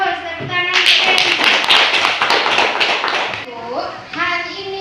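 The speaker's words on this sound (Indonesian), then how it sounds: "tepuk tangan untuk Lebi" A class of schoolchildren clapping for a classmate, loud close rhythmic claps in the middle with children's voices talking before and after.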